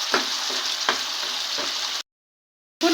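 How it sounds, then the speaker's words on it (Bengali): Spices and whisked sour yogurt sizzle in a pan as they are stirred, with steady frying hiss and a few soft scraping strokes, then a brief silence before the sizzle resumes. "আমি নেড়ে চেড়ে 5 মিনিট মশলার সঙ্গে টক দইটা কষিয়ে নেব।"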